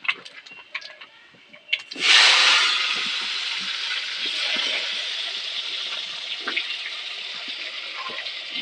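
Raw mango pieces drop into hot oil with panch phoron and a pinch of carom seeds, setting off a sudden loud sizzle that stays steady and crackling for several seconds, with no talking.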